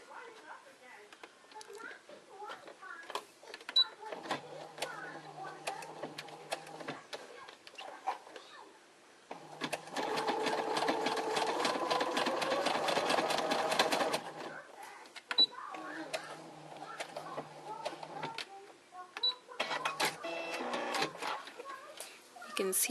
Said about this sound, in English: I've got my machine set to a nice zigzag, and I'm going to come in here and just kind of zigzag this opening closed.